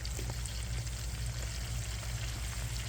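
Prosciutto-wrapped asparagus frying in unstrained oil, a steady dense sizzle and crackle running unbroken throughout, close and fairly loud with no voices.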